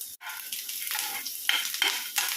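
Red chilies and coconut pieces fry in hot oil, a crisp, close sizzle that swells in short pulses as they are stirred, with a bright tap or two against the pan.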